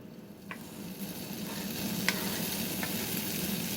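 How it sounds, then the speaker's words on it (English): Bacon strips frying in a large pan over medium-high heat give a steady, soft sizzle with a few sharp crackling pops, close by and with no talking. "I'm just going to add the bacon to it"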